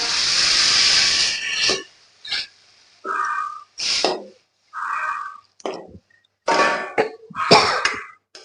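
Water hits a hot pan for a fish curry with a loud, close hiss of steam that fades within about two seconds, followed by scattered sputters, pops and brief bursts of sizzling.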